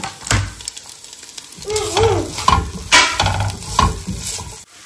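Chopped tomato and green chillies hitting a hot pan, giving close sizzling and frying with stirring scrapes and a few clatters of a utensil against the pan.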